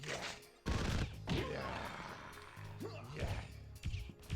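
AK rifle fire in a video game comes as a few heavy, fairly quiet bursts spread over a few seconds, mixed with crashing impacts.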